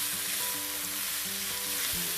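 Spices sizzle steadily in hot oil in a large pan for a curry-powder-spiced chicken couscous, a continuous close frying crackle with faint stirring and no talk.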